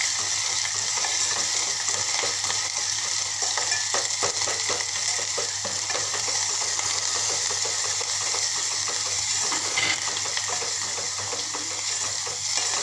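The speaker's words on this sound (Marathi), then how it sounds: "भाजलेलं खोबऱ्याची पेस्ट घालते त्याला छान मस्त हलकंसं भाजून घेते मस्त वास सुटेपर्यंत मसाले आपण छान असे परतून घेणार आहोत" Roasted coconut paste and spices sautéing in a pan for a spicy pathodi rassa curry, a steady dense sizzle with scattered stirring scrapes throughout, close and fairly loud, no voices.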